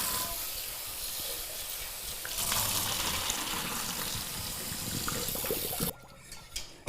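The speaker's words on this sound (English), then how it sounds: "I'm going to go ahead and drain the tortellini here" Hot water from cooked tortellini pouring into a kitchen sink, a loud steady rushing hiss with steam that swells midway and then cuts off abruptly, leaving faint clatter.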